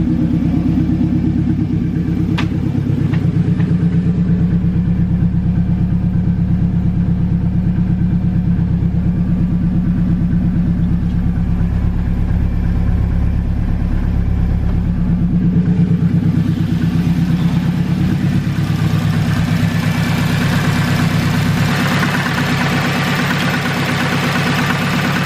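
A 500HP turbocharged Honda K24 car engine idles steadily, a close, loud, even rumble with a faint tick early on and a brighter hiss coming in after the midpoint.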